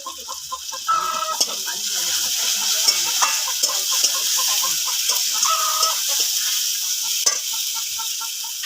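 Ginger, garlic and tomato fry in a pan with a steady hiss for a Bengali oily spicy pangas fish curry, while chickens cluck and a rooster calls close by throughout.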